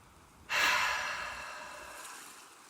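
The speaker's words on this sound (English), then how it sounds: "now stop and take a deep breath" A single deep breath starts abruptly, loud and close, as a broad airy rush that slowly tapers off over about two seconds with no talking.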